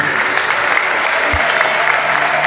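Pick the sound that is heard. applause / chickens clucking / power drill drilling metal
applause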